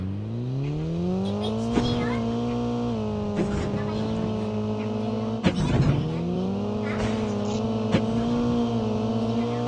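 A car engine revs and drones continuously with shifting pitch in a battle-royale video game, with brief tire squeals and impacts, while players talk over it.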